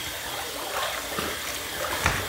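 Tap water at a bathroom sink is splashed onto the face before a wet shave, giving a soft, continuous trickle with small splashes, close but faint.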